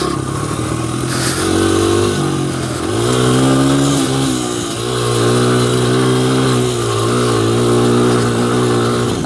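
A 2001 Honda XR100R motorcycle engine revs while being ridden, its pitch rising and dropping through throttle changes with a missed gearshift, loud and close with no talk.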